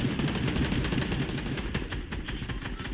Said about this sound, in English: Ooh, that's a heavy assault rifle.